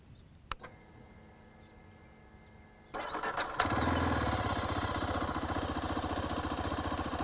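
A Zontes GK350 motorcycle engine cranks over with a sharp start-up burst after a quiet stretch of faint background hum, then settles into a steady, close idle that runs evenly to the end.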